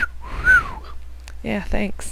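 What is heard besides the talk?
bird chirping in a video game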